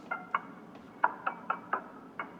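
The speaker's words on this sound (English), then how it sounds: "And the final thing is a percussion loop" Time-stretched percussion loop from a sample pack: a sparse pattern of about seven short, soft knocking hits with small bright clicks, playing alone at low volume.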